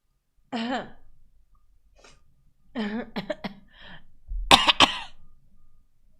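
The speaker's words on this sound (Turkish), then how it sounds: "Ay öksürük tuttu vallahi" A few sharp coughs, then a burst of harsher coughing and throat clearing, close and fairly loud, separated by short pauses.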